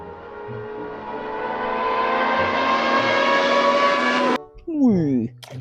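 A toy race car gives off a loud electronic engine sound whose pitch climbs steadily for about four seconds, then cuts off sharply as a voice speaks briefly.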